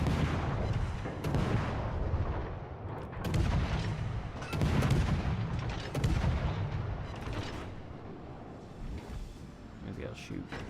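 Warship guns booming in the naval combat game World of Warships: Legends, heavy repeated blasts and rumbling salvos that swell and fade, with game mechanisms audible in the mix.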